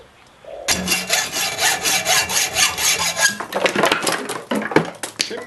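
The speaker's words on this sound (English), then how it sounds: "now I'll just get the hacksaw and separate them from their parent" A hacksaw cuts through metal brackets with steady rhythmic back-and-forth strokes, close and fairly loud, about a dozen even strokes followed by quicker, choppier ones and a few clinks at the end.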